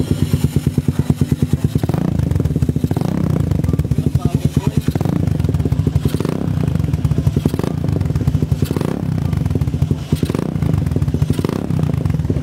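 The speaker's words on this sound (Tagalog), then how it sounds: "So ngayon, pakinggan natin walang silencer." A loud, raw Suzuki Raider 150 carburetor motorcycle engine, run without a silencer, roars close by with a rapid popping exhaust pulse, swelling and dipping as the throttle is worked to about 5,000 RPM.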